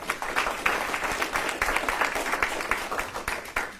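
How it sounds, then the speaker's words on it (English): Applause from the audience at an Army Materiel Command promotion ceremony, a steady patter of many hands clapping close by for nearly four seconds with uneven, busy rhythm. "Have a round of applause for those great people."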